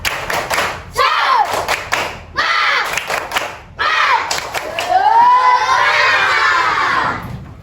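Schoolchildren in a fourth-grade classroom do the tepuk semangat clapping chant, with bursts of rhythmic claps and thumps mixed with loud group shouting and chanting voices, rising to a sustained cheer at the end.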